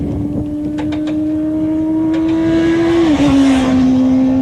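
A motorcycle's engine drones loud and close as the bike leaves a corner under smooth throttle, holding a steady tone before a brief dip and a renewed pull.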